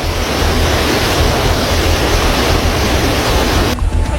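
Floodwater from the Tuntang River in Grobogan, Central Java, pours through a burst embankment onto the flooded road as a loud, continuous broadband roar and rush that stays steady throughout.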